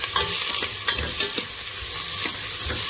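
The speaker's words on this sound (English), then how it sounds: "Just going to saute this for a while." Onion and garlic sautéing in a pot, with a steady close sizzle and repeated stirring scrapes and taps of a spoon against the metal throughout.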